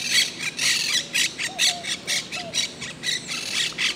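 Wild parrots squawking in a tree in Old San Juan, Puerto Rico, a fast run of harsh, loud, close calls repeating in bursts with no gaps, alone without talk.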